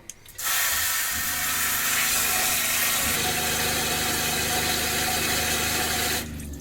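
Tap water gushes steadily into a Presto 16-quart pressure canner, filling it to the 3-quart mark, a loud continuous rushing that starts abruptly and cuts off near the end.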